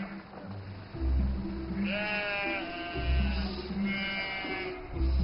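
Goats bleat in a mountain pasture near a village in northern Fujian, several wavering calls overlapping at moderate distance over low rumbling background noise.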